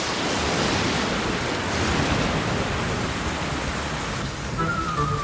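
Heavy rain pours down in a children's bear cartoon, a dense, steady roar of rainfall filling the whole stretch with no voices over it.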